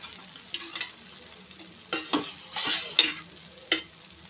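Adai batter cooking on a dosa pan gives a soft, steady sizzle with intermittent scraping and stirring clatters, heard close up with no talking.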